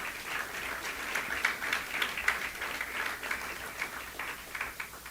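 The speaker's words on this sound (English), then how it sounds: "you need to give them a round of applause" An audience at a cricket awards and closing ceremony breaks into steady applause, a continuous wash of many hands clapping at moderate distance, lasting several seconds without letup.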